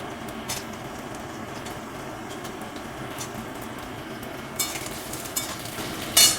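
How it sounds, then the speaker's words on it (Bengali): Potatoes fry in a pan with hot spiced oil in a Bengali kitchen, giving a steady, soft sizzle throughout with a few louder crackles and a sharp clatter at the very end. "আলুগুলো প্রথমে একটু ভেজে নেব।"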